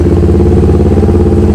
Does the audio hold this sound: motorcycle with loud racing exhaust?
yes